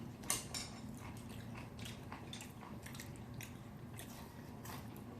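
Chewing pork salad at a close distance, soft wet squishy bites repeating in an irregular rhythm, with a sharper crunch near the start and no talking.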